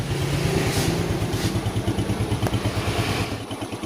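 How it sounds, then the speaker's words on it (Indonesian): A Yamaha Jupiter Z motorcycle engine, the new model with a white-smoke exhaust problem, runs at a steady idle close by, its rapid, even pulsing chug continuing alone for a few seconds. "Jadi mesinnya sudah hidup. Sini saya akan lanjut mendengarkan suara mesinnya."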